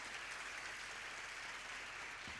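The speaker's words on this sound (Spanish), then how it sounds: "Vamos a darle un fuerte aplauso." An audience at a conference on depression in women gives steady applause to welcome a psychiatrist speaker, a dense wash of clapping heard fairly faint and continuous throughout.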